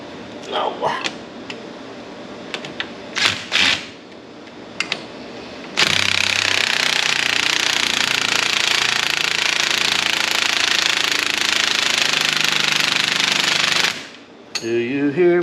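A battery-powered impact wrench on a Polaris RZR during a SuperATV GDP 4-inch portal install runs in short bursts, then grinds loudly and continuously for about eight seconds before stopping.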